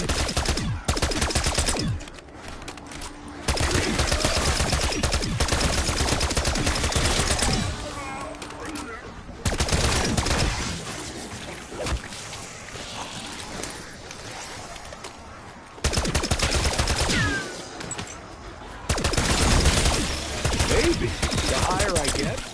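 Rapid bursts of automatic gunfire from the video game Black Ops 6, loud and dense in several long stretches separated by quieter gaps, with voices talking at times.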